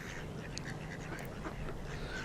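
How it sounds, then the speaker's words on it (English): Ducks quack in scattered bursts at a duck area of a park lake with paddle islands in the seaside town of Skegness, heard at middle distance over steady outdoor wind and ambient noise. "We've got the little duck area"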